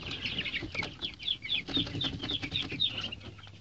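Leghorn chickens cluck and chirp in a farmyard pen, a busy flock of overlapping calls repeating at close range with no voices.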